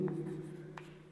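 A pen scratches on paper while a right-triangle math problem is worked out: a few faint, brief strokes over a low steady background hum.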